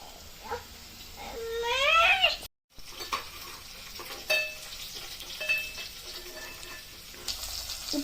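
Sliced onions with salt frying in a pan for okra curry, giving a soft sizzle with stirring scrapes, a brief high squeal early on and a short dropout in the middle.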